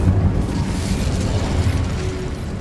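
Incendio fire spell cast in the video game Hogwarts Legacy, a dense roaring burst of flame with a booming low rumble that stays loud and continuous across the moment.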